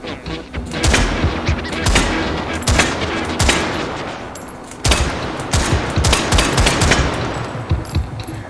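Gunfire in the VR shooter H3VR: loud, close bursts of rapid automatic shots, with sharp single cracks repeating across the whole stretch and brief pauses between volleys.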